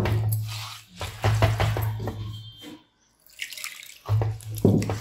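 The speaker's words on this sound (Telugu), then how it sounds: "చూసారా నీళ్ళు కూడా వేసి కలిపాను" Water is poured and stirred into an oats and curd dosa batter in short bursts of splashing and trickling, broken by pauses of near silence.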